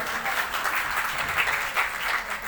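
An audience at a women's honour ceremony and poetry recital at Kurukshetra University breaks into sustained, dense applause, many hands clapping at once with no break.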